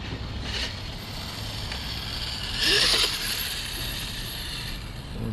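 An HPI RS4 RC car converted from nitro to an electric 3S motor with a Sidewinder 3 system runs outdoors, a steady whine under wind noise that swells briefly as it is given more throttle.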